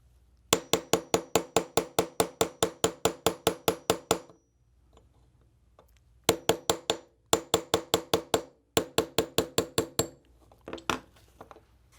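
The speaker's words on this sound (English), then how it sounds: "We'll grab our 3/32 inch punch and our hammer, and we'll go ahead and just tap it right out." Rapid, steady metallic taps of a hammer on a 3/32 inch punch driving a roll pin out of a Ruger LCP II pistol, several quick runs of strikes separated by short pauses, close and crisp.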